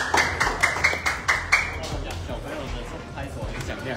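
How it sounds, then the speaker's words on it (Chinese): Hand clapping at a professional pool match, the 2023 Invitational Challenge with the KO brothers against Efren Reyes: about seven sharp claps in the first two seconds, then fading under crowd murmur and commentary. "对，他拍手有练过了哦。"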